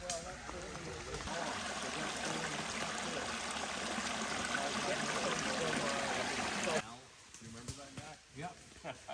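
Second Hill Brook flows steadily as a broadband wash of running water for about seven seconds, then drops away abruptly, leaving quieter background with faint voices.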